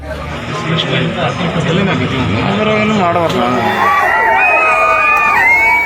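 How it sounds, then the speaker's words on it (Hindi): A large, unruly crowd at Janardhan Reddy's birthday event in Bellary makes a loud, dense hubbub of shouting and cheering voices that rises toward the end. "बेल्लारी में जनार्दन रेड्डी के जन्मदिन के मौके पर काफी भीड़ उमड़ी"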